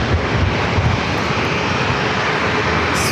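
A Sun Country Boeing 737-800 airliner arriving from Minneapolis at San Diego airport gives a steady, loud broadband engine roar that holds evenly throughout with no pause.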